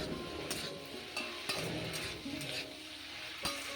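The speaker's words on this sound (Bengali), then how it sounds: "হাই ফ্লেমে একটু সময় নেড়ে চেড়ে নেব।" Spiced vegetables, potato, broad beans, tomato and onion with salt, cumin, chilli and turmeric, stirred in a frying pan over high flame, with a steady close sizzle and scraping clinks of a spatula against the pan.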